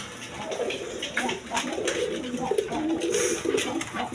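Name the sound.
pigeons cooing, Rajgolla coloured pigeons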